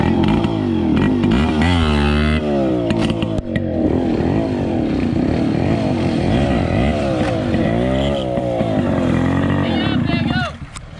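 A stunt motorcycle revving hard during a wheelie, its engine roaring loud and close with rising and falling throttle sweeps over about ten seconds, with people talking over it.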